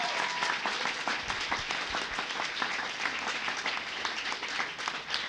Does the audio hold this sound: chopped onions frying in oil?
no